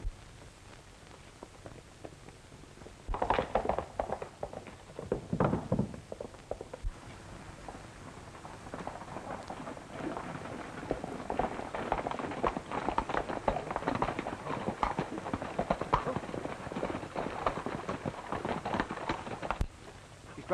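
Horses pull a stagecoach at speed along a road in a 1938 Western, giving a continuous rumbling rush of hoofbeats and rolling wheels that holds steady throughout with no voices.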